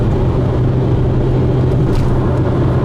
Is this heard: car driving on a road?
yes